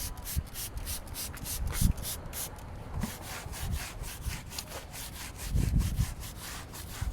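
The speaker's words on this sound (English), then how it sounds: "so I'm gonna scrub the tire" A car tire scrubbed with a brush and foam tire cleaner, rapid rhythmic back-and-forth bristle strokes, close and moderately loud, continuing steadily with a few heavier thumps of the brush.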